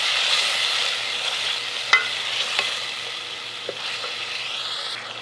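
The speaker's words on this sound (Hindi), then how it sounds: "इसमें डाल देंगे अदरक लहसुन का पेस्ट जो कि मांगरे में कूट लिया था। इसको मिक्स कर लेंगे" Ginger garlic paste sizzling among golden fried onions in a hot pan, with a steady frying hiss and a few sharp scrapes and clinks as a spoon stirs the mix, no voices.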